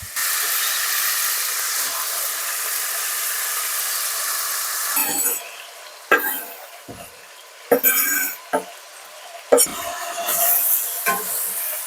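Onions go into melted beef fat in a pan on a wood stove, with a loud steady sizzling hiss at first, then quieter frying broken by sharp clatters of stirring.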